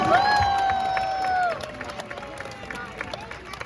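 A crowd at a sea lion show cheers and claps for the performing sea lion and trainer; a long whistle-like tone rides over the start before the clapping thins out, with a voice speaking over it.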